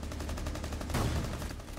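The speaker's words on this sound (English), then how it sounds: "It shows me shooting the dude." Gunfire in the Rainbow Six Siege beta, a short burst of shots on a noisy game soundtrack, loud and close, with no speech.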